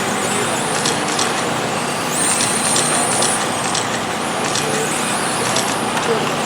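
SC Modified race cars in an A feature at Checkered Flag Raceway, a dense, steady roar of several engines droning continuously around the track, loud and unbroken, with a public-address voice talking over it.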